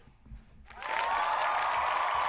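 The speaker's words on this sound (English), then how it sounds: "You got your claps and everything, bro." A crowd of hands claps steadily, starting abruptly after a brief quiet and sustaining at a moderate, even level as a sound effect.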